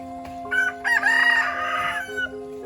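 A rooster crows close by in a long, loud cock-a-doodle-doo, with fowl clucking around it and a steady tonal hum running underneath.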